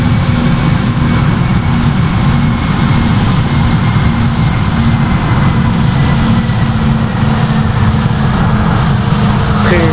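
A Frontier Airlines Airbus A320 takes off in the Project Flight video game, its jet engines producing a loud, steady, dense roar with a heavy low-frequency rumble that holds constant throughout.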